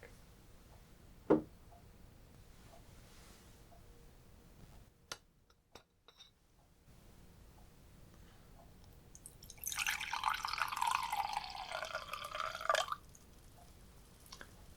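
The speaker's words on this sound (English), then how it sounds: "Let me pour it for you really quick." Hennessy cognac, a 1999 vintage blend, is poured into a glass in a quiet indoor setting. After a few soft clinks, a steady trickling pour runs for about three seconds and stays close and fairly quiet.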